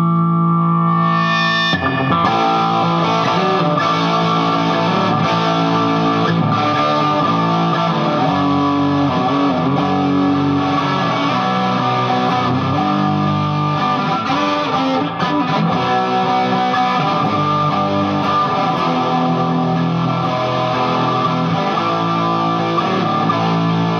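A rare 1980 Ibanez AS400 semi-hollow neck-through electric guitar rings out through a distortion effect, played continuously and loudly with sustained, gritty chords and notes.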